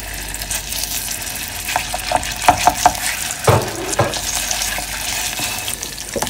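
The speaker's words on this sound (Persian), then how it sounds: "یک مقدار روغن میریزی و حدوداً 1 قاشق نیم یا 2 قاشق رب گوجه رو سرخ میکنی" Tomato paste frying in oil in a pan gives a steady low sizzle, with a spoon stirring and scraping in short bursts near the middle and one louder clatter; no voices.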